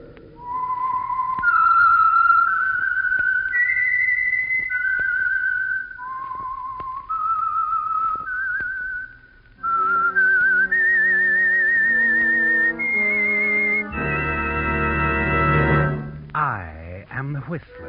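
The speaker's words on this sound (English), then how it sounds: "That whistle is your signal for the Signal Oil" A lone melodic whistled theme for an old-time radio mystery show, a rising and falling tune of sustained notes, joined partway through by orchestral accompaniment that swells to a loud close.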